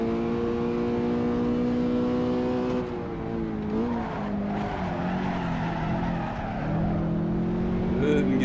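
Abarth 500 engine in the Assetto Corsa racing game droning at steady revs, pitch dipping and wavering as it struggles to wind up, with a brief skid-like scrub; continuous and close throughout.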